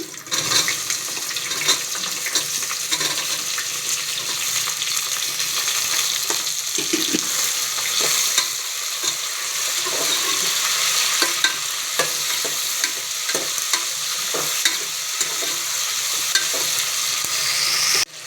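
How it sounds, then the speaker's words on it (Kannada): Onion sautés in a pan with cloves and fennel for mushroom biryani, giving a constant bright sizzle and watery crackle broken by frequent spatula scrapes and taps, with no speech. "ಈರುಳ್ಳಿಯನ್ನು ಚೆನ್ನಾಗಿ ಬಾಡಿಸಿಕೊಂಡು"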